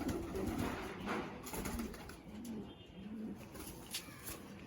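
Pigeons coo softly in a loft, with several low repeated coos and faint chirps over a quiet background and no talk.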